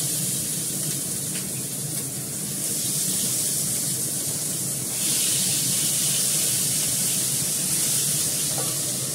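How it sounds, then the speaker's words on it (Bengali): Fish frying in hot oil in a home kitchen, a steady broadband hiss that grows slightly louder midway, with a few faint pops and no speech. "মাছটা বসিয়ে দিই ভাজা"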